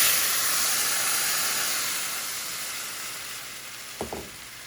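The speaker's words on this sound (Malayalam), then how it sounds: "വേവിച്ച് വെച്ചിരിക്കുന്ന ബീൻസ് ചേർക്കാം." Cooked beans frying in a pan give a steady, loud sizzle and hiss that slowly fades, with a short clink of a utensil near the end and no talking.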